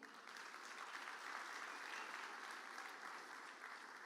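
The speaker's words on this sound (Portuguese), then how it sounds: "Dê um aplauso ao Senhor." A church congregation claps together during an evening family service, a dense, even wash of applause at moderate distance that swells slightly midway and continues steadily to the end.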